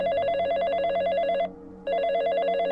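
Telephone bell ringing in two loud, rapid trilling bursts separated by a short pause, with no talking over it.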